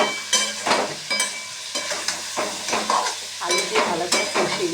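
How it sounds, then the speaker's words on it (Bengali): Spices with a little water being stir-fried in a pan for a vegetarian soybean and potato dish, a soft steady sizzle broken by repeated scraping strokes of a spatula, close and moderately loud. "একটু জল দিয়ে ভালো করে কষিয়ে দেবো"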